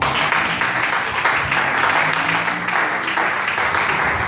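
A church congregation applauds steadily for several seconds, a dense, even wash of many hands clapping in a reverberant hall. No voices stand out.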